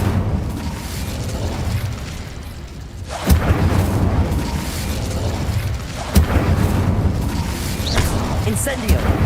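Incendio fire spell blasts in Hogwarts Legacy, two or three sharp booming bursts spaced a few seconds apart over steady background game noise, with voices present.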